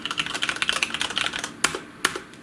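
Fast typing on a computer keyboard, close and clear, with a rapid patter of key clicks that slows into a few louder, separate strikes near the end.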